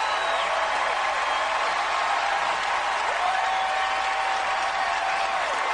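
Thick, unbroken clapping from a big Grammy ceremony crowd greeting Bad Bunny, with scattered whistles and cheers riding over the roar, steady and loud throughout.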